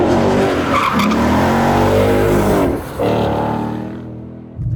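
A Ford Mustang Dark Horse, a heavy 450-horsepower car, drifts via clutch kick on a smooth road, its tires skidding and squealing loudly and continuously over the engine note, easing off near the end.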